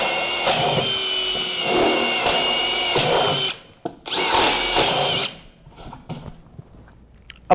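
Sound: power drill boring through PVC board

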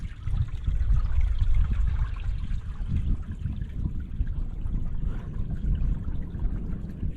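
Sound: water trickling

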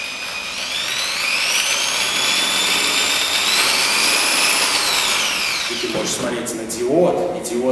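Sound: electric drill spinning a magnet

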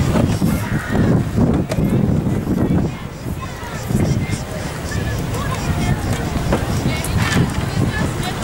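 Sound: wind blowing on outdoor microphone

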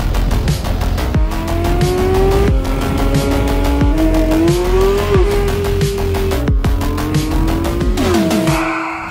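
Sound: Porsche 911 GT3 RS sports car driving

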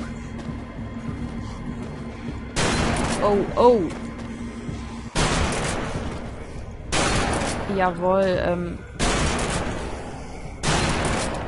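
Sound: shotgun shots in a video game

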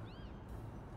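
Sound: cat meowing in video game Little Kitty Big City

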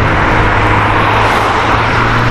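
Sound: orange McLaren sports car passing by

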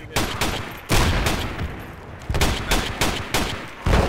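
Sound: mortar fire in Project Reality video game

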